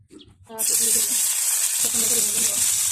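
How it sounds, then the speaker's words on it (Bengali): Fish rubbed with turmeric and salt drops into hot oil, bursting into a loud, steady, close sizzle that holds without a break after a brief quiet start. "এখানে আমি মাছটাকে এখন প্রথমে ভেজে নিব।"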